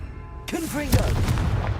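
A Confringo fire spell goes off in Hogwarts Legacy as a sudden booming blast with a whooshing, warbling magical tail that rumbles on, mixed with game effects.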